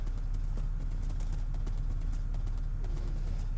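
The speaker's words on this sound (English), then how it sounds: "I don't think I've ever had a horse in Minecraft that was this fast" Minecraft horse galloping at speed in a Feed The Beast Infinity Evolved game, steady quick clip-clop hoofbeats repeating throughout with nobody speaking.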